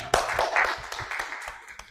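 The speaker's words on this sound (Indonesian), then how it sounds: "Kita tepuk tangan dulu buat Jihan." An audience in a teaching session claps briefly to praise a good question, a burst of scattered, fairly close hand claps with some talking mixed in.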